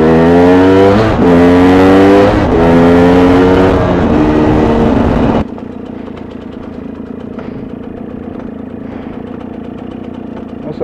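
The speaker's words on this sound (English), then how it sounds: "I love these dirt bikes. Go anywhere you want them to go." Dirt bikes riding off-road in Colorado wilderness, loud engine revving with rising and falling pitch for about five seconds, then dropping to a softer, more distant steady drone.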